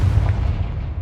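Confringo spell blast in Hogwarts Legacy: a single short, loud booming burst that quickly decays, heard alone without talk.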